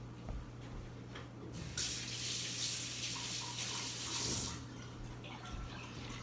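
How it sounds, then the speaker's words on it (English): A knife is rinsed under a running kitchen tap, a steady close splash of water that swells louder in the middle, with a low hum underneath and no talking. "Go rinse my knife."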